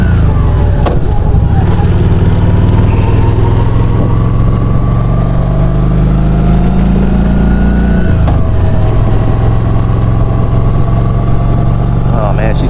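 A 2017 Kawasaki Voyager 1700 touring motorcycle engine rumbles low and steady throughout while riding, with a brief dip in pitch around the middle as it slows and pulls again, wind noise layered over it.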